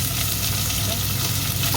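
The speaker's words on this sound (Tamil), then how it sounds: "வெங்காயம் பொரிஞ்சிட்டு இப்போ நான் கருவேப்பிலை இதுக்காக போடணும்." Onions and curry leaves fry in oil for a poriyal, making a dense, continuous close sizzle with a faint crackle and no voices over it.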